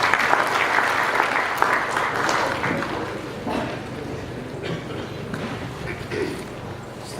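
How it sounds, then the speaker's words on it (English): A ceremony audience applauds the chief guest at an inaugural program in a Kathmandu hotel, a dense, sustained round of clapping that fills the room loudly throughout and tapers slightly toward the end. "A huge round of applause to our chief guest."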